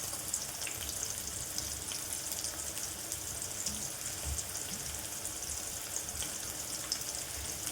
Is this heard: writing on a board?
no